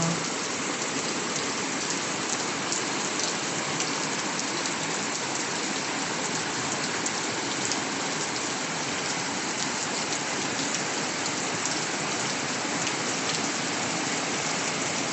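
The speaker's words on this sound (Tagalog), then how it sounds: "lakas po ng ulan." Heavy rain pours down steadily as a dense, unbroken hiss of drops drumming on surfaces, loud and close for the whole stretch, with no voices.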